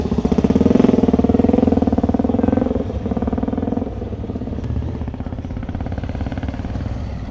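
A Kawasaki 750 triple motorcycle running nearby at a classic bike night, a loud, rapid two-stroke engine putter that is strongest early, then settles into a steady idle.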